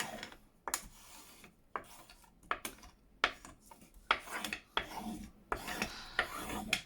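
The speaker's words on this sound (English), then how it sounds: "So burnish it down." Paper is burnished down by hand on a junk journal page, heard as a series of short, close scraping rubs in uneven bursts separated by brief pauses, with no speech.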